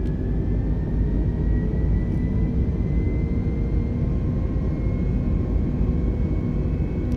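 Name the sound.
airliner engines on takeoff roll, Microsoft Flight Simulator 2020 video game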